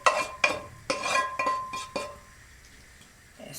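Stirring masala into fried okra and tomatoes in a pan over low heat, with several distinct scraping, clinking strokes of a utensil against metal in the first two seconds, then a quiet pause before a faint final scrape.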